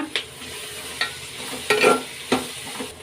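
Onions and curry leaves frying in oil, a steady sizzle broken by sharp stirring scrapes at regular intervals, close and with no talking.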